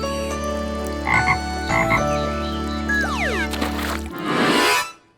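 A cartoon frog from a children's story croaks loudly and steadily over a sustained musical backing, with several swooping tones near the end before the sound cuts off.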